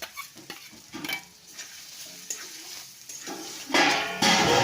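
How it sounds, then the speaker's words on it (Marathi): Peas and potatoes fry in oil in a pan while being stirred, a close sizzle with repeated scraping strokes that swells into a louder hiss near the end, no voices. "शिजेपर्यंत आपण हे हलवून घेऊयात"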